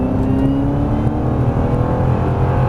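A Ford Mustang Shelby accelerating hard through a drift session, its engine roaring loud and close in a steady, continuous growl for the whole stretch, with no talking.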